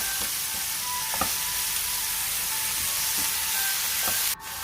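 Vegetables with soy sauce sauté in a hot pan, giving a steady, loud sizzle with occasional stirring scrapes, then a sudden cut near the end.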